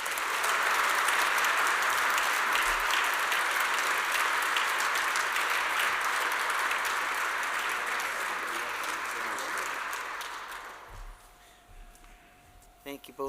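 A ceremony crowd delivers thunderous applause to welcome Jackie Richardson, a long, loud, sustained wash of clapping that gradually fades out near the end.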